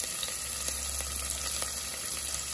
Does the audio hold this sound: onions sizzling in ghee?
yes